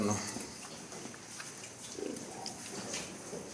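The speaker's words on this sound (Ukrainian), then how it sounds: "Ось цю свинку теж ми вже перегнали з тих станків" A farm pig recently moved out of its pens gives faint, scattered grunts against a noisy barn background, with no clear talk.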